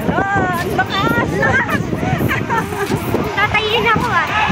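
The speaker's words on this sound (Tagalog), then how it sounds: "lakas ng hangin" Strong wind buffets the microphone at a hilltop spot in Tagaytay City, a steady loud rush running under excited talking and voices throughout.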